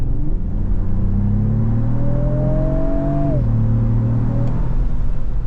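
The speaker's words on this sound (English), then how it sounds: "there's this kind of artificial sound definitely coming through, and like with a lot of artificial sounds, it's not perfectly in sync with the engine" A 2025 Lexus GX 550 Overtrail under full-throttle acceleration in a sport drive mode, with artificial engine sound played through the cabin speakers: a loud, steady droning hum rising in pitch, then dropping sharply at a gearshift before climbing again.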